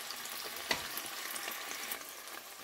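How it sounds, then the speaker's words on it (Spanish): Three large cloves of minced garlic fry in oil, a soft steady sizzle with one sharp spoon knock and a few faint stirring scrapes, fairly quiet and close. "Añadimos 3 grandes ajo picado. Movimos bien para que coge aceite sabor de ajo."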